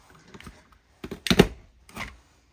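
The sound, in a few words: scallop paper punch punching paper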